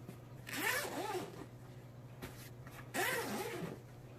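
The zipper on an NcSTAR AR pistol case is drawn open in two close, brisk rasping pulls separated by a short pause, loud and near with no talking.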